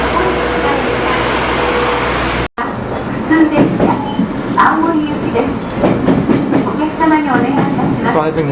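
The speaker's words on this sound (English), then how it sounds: "To catch a train" Train running along rail tracks in Hirosaki, Japan: a steady low rumble with faint rhythmic wheel noise, then after a brief dropout a busier mix of rolling rumble and clatter with people talking over it.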